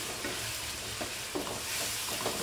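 Close, continuous sizzle of tomatoes frying in a pan as chilli powder is stirred in, with brief scraping stir sounds over the steady hiss and no talking.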